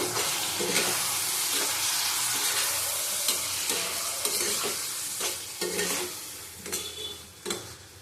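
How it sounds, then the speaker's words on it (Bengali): Tengra fish curry masala with potatoes, salted and splashed with a little water, sizzles steadily in a pan while a spoon scrapes and stirs it in repeated strokes, close and continuous. "ভালো করে কষিয়ে নেবো"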